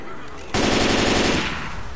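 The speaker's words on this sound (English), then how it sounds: "Good shooting, Tex." Rapid automatic gunfire in the video game Left 4 Dead 2 during a survival round in a mall atrium, a dense, loud continuous burst after a brief lead-in.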